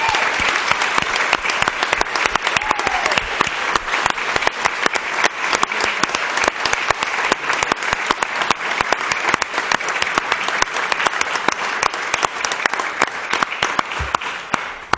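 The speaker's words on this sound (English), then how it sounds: "I would like us to give a rousing round of applause for the Union College hockey team" Sustained, loud applause from an audience at a city council meeting, honoring a college hockey team: dense steady clapping throughout with no talk over it.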